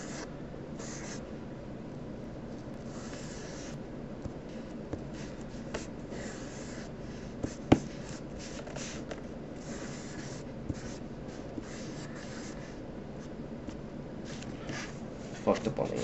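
A Sharpie marker scratches and squeaks across paper in quick irregular strokes, with occasional louder taps as the nib comes down, close and fairly quiet throughout.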